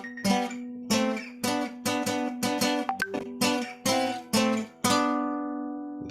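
Acoustic guitar picking the Ring of Fire intro riff from tab, a run of clear plucked notes in a steady rhythm with one brief quicker flourish midway and a long ringing final note, close and alone.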